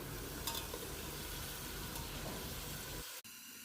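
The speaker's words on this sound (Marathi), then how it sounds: "कांद्याची फोडणी टाकली आणि आता हे मटण त्याच्यामध्ये तेलामध्ये परतून घेतो आहे" Mutton sautéing in hot oil over an onion tempering, a steady close sizzle with stirring scrapes that stops abruptly near the end.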